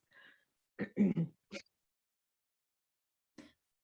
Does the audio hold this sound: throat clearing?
yes